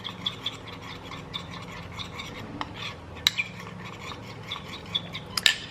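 A utensil stirs and taps around a bowl while salad dressing is whisked, giving soft continuous scraping broken by several light clinks and one sharper clatter near the end.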